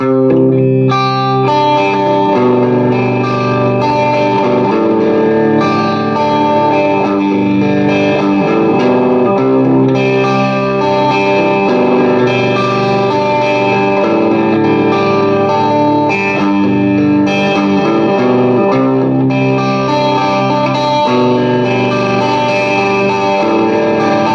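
An electric guitar plays continuously through a Marshall 3203 amp with effects, with distortion, chorus and echo giving a thick, swirling, sustained tone. No talking.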